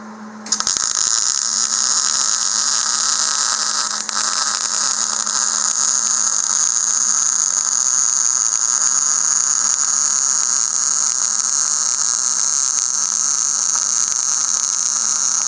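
Arc welding on a new 4-bar bracket for a race car chassis: a steady, loud buzzing crackle with an even electrical hum, starting abruptly and running unbroken to the end.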